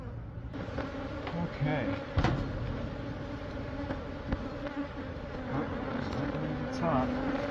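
A swarm of honey bees buzzes loudly and continuously during a beehive removal at a Catholic church, close and dense, with a brief spoken word and scattered handling knocks underneath.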